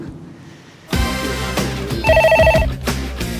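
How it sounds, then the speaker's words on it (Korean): A telephone rings in a busy police investigation office, its electronic ringtone sounding in a few clear, closely spaced bursts that rise over a muffled background of room noise. "바쁜 수사실에 전화벨이 울립니다"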